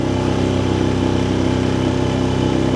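A dinghy outboard motor runs at a steady pace, its even mid-pitched drone close and continuous with no speech.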